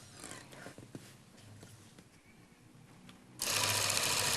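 A sewing machine stitches a quilt in a loop around a dot. Its fast, rhythmic needle chatter comes in short close bursts with pauses, ending in a sudden loud burst of hiss.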